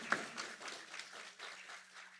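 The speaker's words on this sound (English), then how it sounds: "the applause was started by young folks" Audience applause at a community talk on peace and justice, a brief faint patter of clapping from a crowd heard at a distance.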